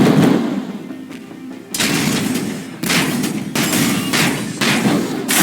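Incoming gunfire in the mech combat video game GUNHEAD arrives as a series of loud, harsh bursts, about five in quick succession, over a rumbling background.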